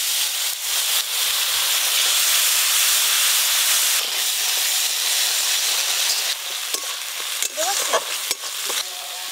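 A spice paste of green chilli, coriander, cumin, turmeric and salt, with a little water added, hisses and sizzles loudly in a pan for Bengali egg curry. Scraping stirs break up the steady frying sound toward the end.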